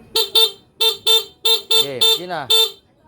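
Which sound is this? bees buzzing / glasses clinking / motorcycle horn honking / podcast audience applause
motorcycle horn honking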